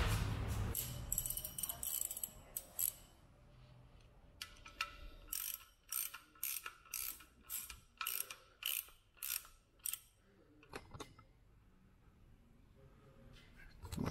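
A ratchet clicks close-up while tightening a 19 mm oil pan drain plug on a leaking car sump, first in a rapid run, then in a dozen quick evenly spaced strokes, ending with a few slower turns.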